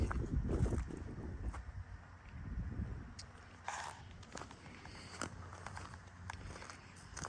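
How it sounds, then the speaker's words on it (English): Strong wind buffets the microphone outdoors beside a cow pasture flooded by beavers, with heavy low rumbling gusts loudest at the start, then a steadier rough roar broken by scattered rustles and thumps. "The wind is pretty bad, so y'all may not be able to hear me too well."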